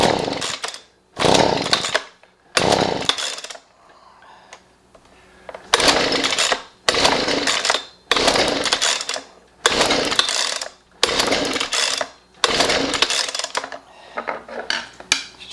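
Husqvarna 125B leaf blower two-stroke engine sputtering as it tries to run, throttle on a new spark plug: a series of loud, rough bursts of engine noise about a second apart, each cutting out into brief quiet.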